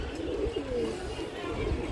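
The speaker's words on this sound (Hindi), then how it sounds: "ये कबूतर बहुत ही अच्छा है" Close, soft pigeon cooing, a low throaty warble repeated a couple of times over faint background noise.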